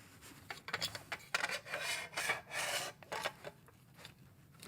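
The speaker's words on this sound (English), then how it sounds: "loosen the 2 thumb screws and slide the hoop relative to the carriage." A hoop slid along the carriage of GEKKO pole-climbing shoes after the thumb screws are loosened, giving short scraping, rasping rubs in several bursts at close range.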